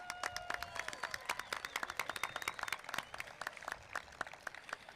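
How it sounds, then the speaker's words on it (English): Graduation ceremony crowd claps for a graduating high school class, a spread of hand claps with some whistles, moderately loud and continuous across the hall. "Let us give all these students another round of applause."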